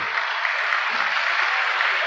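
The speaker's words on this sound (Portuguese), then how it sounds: "Eu não sei se as palmas foram das mulheres ou dos homens." An audience at a spiritist congress bursts into dense, steady applause, a loud wash of many clapping hands heard alone for a couple of seconds.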